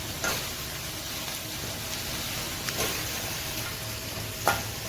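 Dried red chillies and ginger sauté in a pan, a steady close sizzle with a couple of faint stirring clicks for a few seconds.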